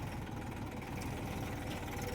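A tractor engine idles at low volume during parking, a steady, unbroken low rumble with a faint knocking texture and no voices.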